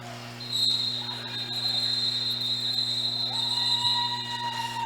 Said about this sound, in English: That's a whole lot of whistles there at the end